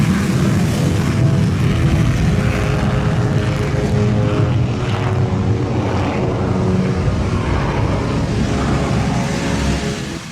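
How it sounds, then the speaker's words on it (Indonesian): Dassault Rafale fighter jet performing an air show demonstration, a loud continuous engine roar with steady broadband rumble that holds throughout and eases slightly at the end, no voices. "jet Rafale melakukan demonstrasi"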